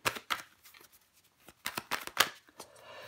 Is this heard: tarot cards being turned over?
yes